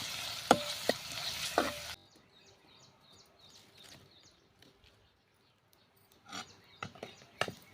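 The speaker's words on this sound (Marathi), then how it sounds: "कांदा आपल्याला चांगला गुलाबी रंग येईपर्यंत आणि मऊसूद होईपर्यंत आपल्याला परतून घ्यायचा आहे" Onions sautéing in a kadhai over a wood-fired chulha: a loud, close sizzle with a few sharp stirring scrapes for about two seconds. Then it drops to a quiet background with faint bird chirps and a few more scrapes near the end.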